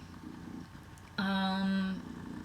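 Cat purring close by, a low steady rumble that swells louder for under a second midway through, with faint background noise around it.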